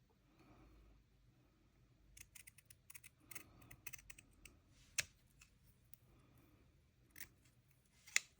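Scissors are picked up and handled during junk journal crafting, giving quiet clicks and light metallic snips in a loose, irregular series with a couple of sharper ticks, and no voices.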